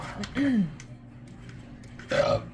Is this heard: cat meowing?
no